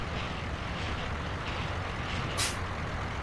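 Air brake hiss of a truck in American Truck Simulator, a short loud burst of air near the end over a steady low engine rumble, no talking.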